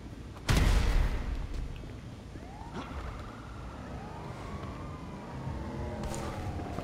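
An ambulance siren in the GTA 5 video game wails in after a sharp loud hit. The sweeping tones rise and fall over game noise, moderately close, with no speech.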